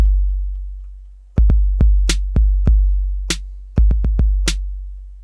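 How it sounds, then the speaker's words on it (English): Short metallic cowbell-like hits from a 707-style drum kit played on a Torso S4 and Roland SH-4D synth setup, sounding in an irregular rhythmic pattern over a steady low bass drone, loud and close, with no talking. "Gotta have that cowbell."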